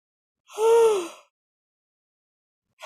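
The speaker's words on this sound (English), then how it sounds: "I'm going to yawn again just thinking about it" A person gives one long, close yawn that rises and then sags in pitch, followed by silence.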